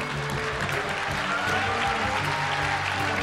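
Continuous applause from a theatre audience, dense and steady clapping filling the hall for a few seconds.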